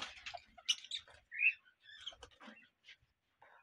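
Cockatiels being caught in a breeding cage, giving short, scattered chirps and squawks with flutters and cage rattles, fairly close and uneven in rhythm.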